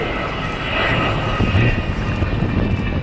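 Avro Vulcan XH558 bomber flying past at an air display at Yeovilton, a loud, sustained engine roar that swells slightly as it passes, heard outdoors from the ground.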